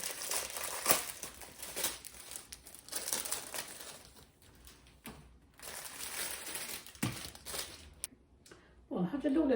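Packaged pastry sheets for baklava are unwrapped, giving soft intermittent crinkling of plastic wrap, fairly quiet, with a voice speaking at the end.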